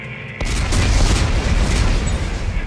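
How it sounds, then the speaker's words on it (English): Explosives detonate in the video game Dead Space 3, a sudden loud boom followed by a sustained rumbling roar that stays heavy and dense through to the end. "Computer, arm explosives."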